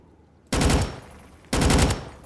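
Two loud, rapid bursts of automatic gunfire in the Roblox game a dusty trip, each lasting about a third of a second and separated by a brief lull, close and alone without talk.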